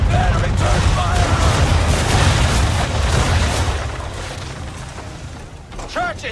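Ship cannons booming in a naval battle in Assassin's Creed III, heavy rumbling blasts rolling continuously and loud at first, then easing off, with shouted voices over the gunfire.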